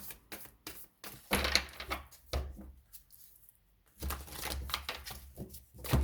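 Tarot cards being riffled and shuffled in two rapid, papery bursts separated by a quiet pause, close up with a soft low thump underneath.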